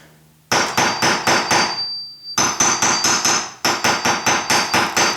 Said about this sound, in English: just a little hobby hammer to make an impression